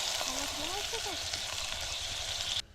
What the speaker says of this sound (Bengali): তো এখানে এই যে আমাদের সবজিটা ঢেলে নেবো ফ্রাইড রাইসের জন্য।